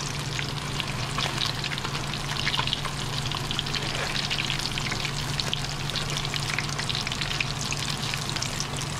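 Crappie fish coated in grits fry hard in a hot pan on a stove, producing a dense, continuous, loud crackling sizzle with no talking.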